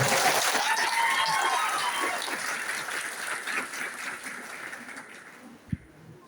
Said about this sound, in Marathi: एक टाळ्या होऊन जाऊ दे मुळीक सरांच्या